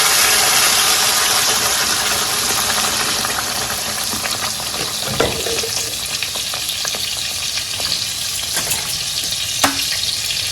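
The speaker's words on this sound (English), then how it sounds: "We've added oil to the pan. I'll go ahead and add my blended onion, garlic, and the spices." Blended onion, garlic and spices fry in hot oil in a pan for a red snapper sauce, a loud, steady close sizzle with occasional spoon scrapes and taps.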